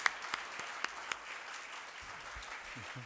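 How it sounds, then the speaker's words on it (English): An audience at a 2016 Germantown municipal school board candidate forum claps for the candidates, a few sharp early claps giving way to a steady, moderately distant wash of applause, with a faint voice starting at the close. "A round of applause for all the candidates."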